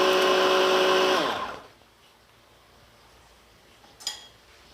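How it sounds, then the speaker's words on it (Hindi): A kitchen blender whirs loudly, blending lentil batter with gram flour, then cuts off after about a second and a half, leaving near silence and a brief clatter. "और फिर मैं इसको ब्लेंड करूँगी।"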